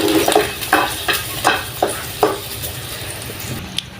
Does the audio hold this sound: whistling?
no